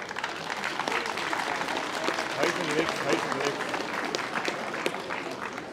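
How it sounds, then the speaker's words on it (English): Applause for the referee and his officials after a 2021 IFC final Gaelic football match, a steady crowd clapping at moderate distance with voices mixed in beneath it. "So an applause for Anthony Nolan and his team."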